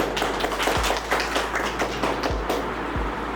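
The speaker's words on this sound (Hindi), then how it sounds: "स्वागत करता हूँ, वेलकम करता हूँ तालियों के साथ" Audience clapping to welcome a retiring Indian Navy veteran at a farewell gathering, a moderate patter of applause with a few sharper taps, steady and fairly close throughout.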